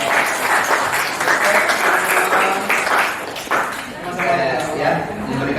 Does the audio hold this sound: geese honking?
no